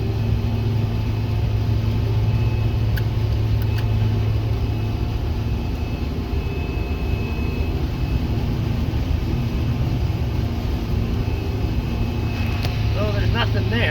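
A combine harvester runs steadily while harvesting peas on a windy field, a loud continuous low engine drone filling the whole stretch from inside the cab, with faint clicks near the end.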